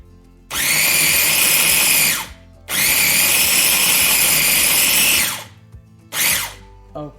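A food processor grinds pesto ingredients in three loud bursts: two long whirring runs of roughly two seconds each and a short final pulse, with quiet gaps between.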